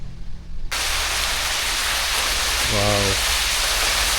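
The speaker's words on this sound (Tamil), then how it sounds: "துபாயில் அருவியா?" Waterfall at Wadi Shees in the UAE, a dense rushing hiss of falling water that suddenly swells up and then holds steady and loud, with a person briefly exclaiming over it.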